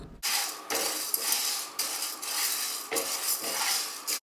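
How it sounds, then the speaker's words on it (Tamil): Urad dal dry roasting in a pan without oil over medium flame, with a continuous scraping rattle of lentils and a utensil against the metal pan, steady and close with brief pauses. "இப்போ இது லைட்டாக கோல்டன் ப்ரௌன் கலர் ஆகிற வரைக்கும் நம்ம வறுத்து எடுத்துக்கலாம்."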